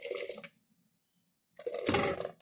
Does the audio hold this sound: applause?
no